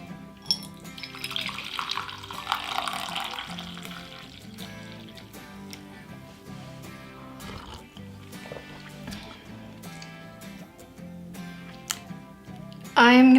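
A Gourmia Tea Square brewing machine pours brewed liquid into a bucket, a steady trickling stream running under background music with a brief louder burst near the end.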